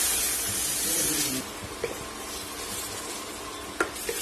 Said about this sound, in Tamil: இந்த மசாலா எல்லாம் பச்சை வாசனை போற அளவுக்கு நல்லா வதக்கி விட்டாச்சு